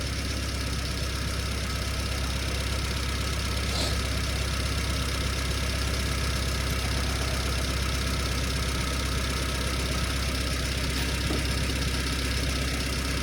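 A car engine idles steadily after carburettor tuning, a loud, even, continuous drone with no rise or fall in speed across the whole stretch.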